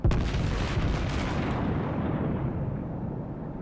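The main guns of a New Mexico battleship fire in World of Warships, one heavy booming salvo that starts loud and rolls on in a long, fading rumble.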